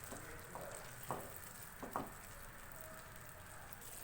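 Ground onions are added to a pan and stirred while cooking for a beef kofta curry. A soft, steady sizzle runs throughout, with a few faint scraping stirs, all quiet and close.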